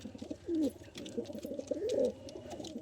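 Madrasi pigeons coo in a loft, giving several low, throaty rolling coos in close succession, fairly near and clear over faint background rustle.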